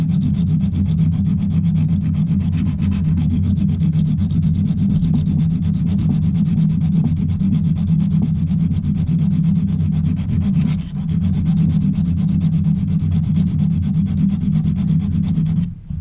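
A silicon carbide sharpening stone being rubbed, a steady, continuous abrasive hiss with a low rumbling drone, loud and unbroken for sixteen seconds with no voices.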